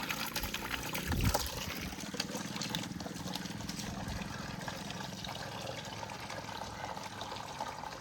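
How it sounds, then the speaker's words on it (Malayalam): Water running into a concrete tank while a fish pond is being cleaned, a faint steady trickling and pouring flow with a brief louder splash near the start. "അപ്പം അതിന് വേണ്ടിയിട്ട് ഇതിലാണ് വെള്ളം നിറച്ചിടുക"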